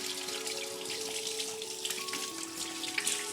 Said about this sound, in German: muss ich mir ganz kurz die Hände waschen.